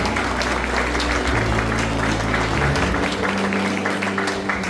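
An audience at a newspaper's 80th-anniversary photo exhibition opening applauds to welcome the paper's president, a steady wash of clapping over a low mechanical hum, with scattered crowd murmur and no clear speech.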